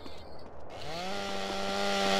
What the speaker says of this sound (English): I'll kill the chainsaw guy first.